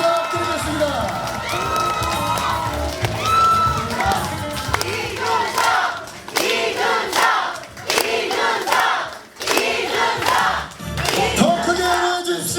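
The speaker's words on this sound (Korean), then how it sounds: "여러분 큰 박수 부탁드리겠습니다" Supporters cheering, shouting and clapping at a party election campaign office opening, a loud crowd roar that rises and falls in waves across the room.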